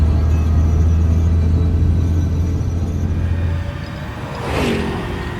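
A car's engine rumbles steadily and fairly loud, then fades into a brief whooshing rush near the end as it speeds past, with no talking.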